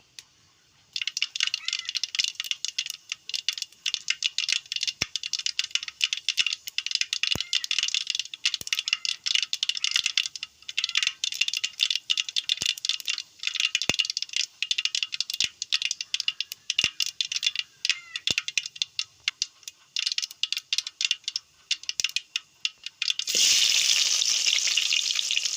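Mustard seeds pop and splutter in hot oil in a home kitchen, a dense crackle of sharp clicks. Near the end it turns into a louder, steady sizzle as onions go into the pan.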